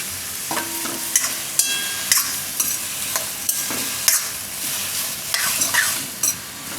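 Tomato and beetroot soup being stirred in a pot, with distinct scraping and tapping strokes of a spoon about once a second over a soft bubbling sizzle, close and clear, with no talking.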